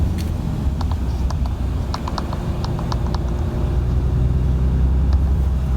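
A 2019 RAM 2500 Laramie pickup with a Cummins diesel pulls ahead under acceleration, its deep engine rumble steady and close from inside the cab, with faint light clicks and ticks scattered over the drone.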